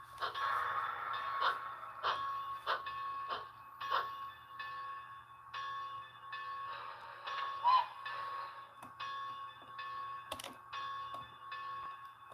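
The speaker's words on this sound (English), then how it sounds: "Literally just go out with a train only for the mine." Model train running on a basement layout, a steady low rumble with a sequence of rhythmic clicks and clacks as it rolls along the track, close and fairly quiet, with no voices.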